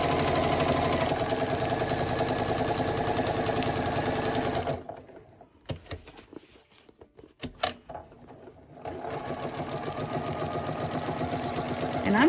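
A sewing machine running a dense satin stitch for appliqué, with loud rapid needle chatter that stops for a few seconds of quiet handling and small clicks, then resumes at the same steady pace.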